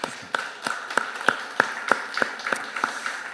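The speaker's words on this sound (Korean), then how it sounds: "우리 주님께 우리 박수로 영광을 돌렸습니다" A church congregation claps together in a steady rhythm, about ten sharp, evenly spaced claps in unison, with no talking.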